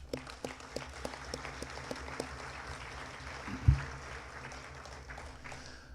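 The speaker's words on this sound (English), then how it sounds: "If we could give them a round of applause." Scattered handclaps grow into a modest round of applause from a small crowd at a school football assembly, steady and moderately distant, fading near the end.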